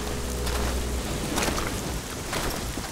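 Heavy rain pours in the Castlevania: Lords of Shadow video game world, a dense and continuous hiss with a few brief low booms beneath it.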